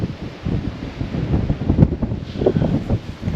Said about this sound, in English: That's where the wind's coming from at the moment, so we've got an easterly blowing across